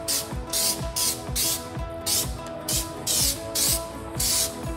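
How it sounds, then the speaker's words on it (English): Repeated short bursts of aerosol headlight coating spray hiss in a steady rhythm on a Ford BA Falcon headlight, each pass followed by a brief pause, close and fairly loud. "give our headlight coating spray a good shake,"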